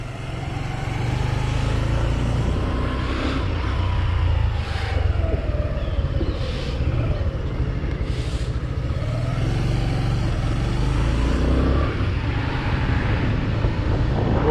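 A Suzuki GSX125 motorcycle, a 125cc bike, on its first ride: a steady engine drone with rising and falling pitch as it accelerates through the gears, mixed with constant wind rush for the whole stretch, with no talking.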